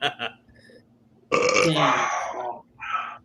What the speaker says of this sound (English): I think that burp was disgusting.